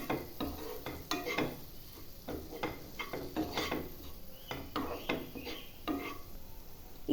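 A spoon stirs flour into white sauce in a nonstick pan, making close, repeated scraping and clicking strokes in an uneven rhythm over a soft sizzle, with no talking.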